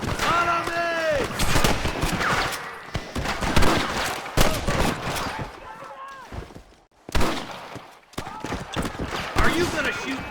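Gunfire from a Red Dead Redemption shootout with rustlers, sharp repeated shots scattered through the clip amid game voices shouting over the action.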